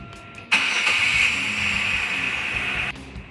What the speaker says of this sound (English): Now we're going to go ahead and start the engine.